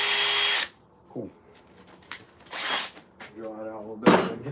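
A handheld power drill bores into a chainsaw-carved wooden rainbow trout, with a loud high-speed whir at the start, then quieter short bursts and rattles of the bit, ending in another sharp spin-up.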